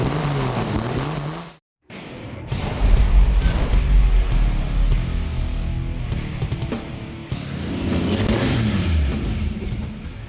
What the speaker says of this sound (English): man, is it neat to hear that engine run